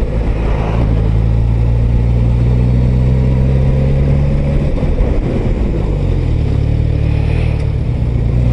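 A Suzuki GSX-S1000 GT motorcycle engine pulls up from low revs, a steady loud close rumble rising gradually with wind noise, no talking.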